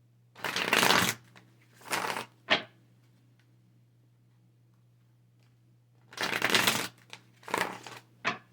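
Tarot cards being shuffled in two bursts of riffling, each a dense papery flutter lasting about a second, followed by shorter taps and riffles, over a steady low hum with quiet gaps between.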